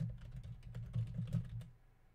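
A command typed quickly on a computer keyboard, a close run of soft rapid key clicks lasting under two seconds, then trailing off into quiet.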